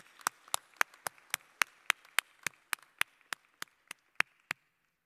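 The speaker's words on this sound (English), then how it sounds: "A round of applause for this spectacular group." Steady, evenly spaced clapping at a commencement ceremony for an architecture and design school, sharp and fairly close, keeping a brisk regular beat for about five seconds with no voices over it.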